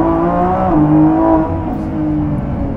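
A Lamborghini Revuelto accelerates smoothly from inside the cabin, its engine tone rising and then dropping at a gear change before climbing again, a steady close hum without talk.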